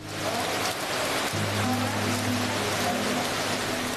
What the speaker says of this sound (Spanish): Empieza a llover y uno ya se imagina lo peor.